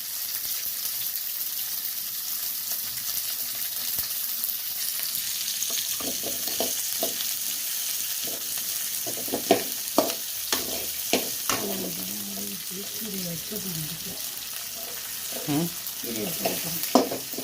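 Mustard seeds, onion, chili and garlic sautéing in a pan for a greens dish, a steady sizzle with intermittent stirring scrapes and clinks that grow busier toward the end, close by.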